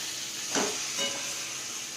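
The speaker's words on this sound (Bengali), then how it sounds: "এরপর মশলার সাথে ভালো করে মিশিয়ে নেব।" Fried jackfruit and potatoes stirred with spices in a pan, a steady sizzle with two brief louder scraping strokes of the spoon, close and moderately quiet, no talking.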